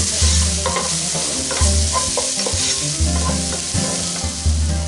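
Onions and spices with pepper powder sautéing in a pan for an Arabian chicken maklouba, with a steady loud sizzle and repeated stirring scrapes throughout, no voices.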